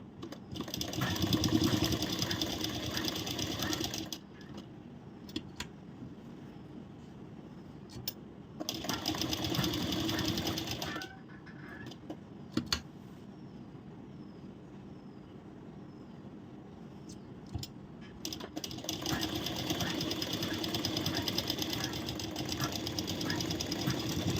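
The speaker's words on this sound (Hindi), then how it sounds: "नेक पे इसको हम इस तरह रखेंगे और यहाँ से हमारी जो सिलाई है ना वो शुरू करेंगे" An electric sewing machine stitches the lining onto a blouse back neck in long whirring runs, stopping and restarting several times with quiet pauses between bursts.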